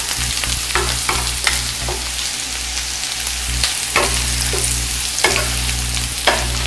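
Lemon zest sautés in a hot pan with a constant sizzle, broken by repeated scraping and tossing strokes at an irregular rhythm, close and clear with no talking.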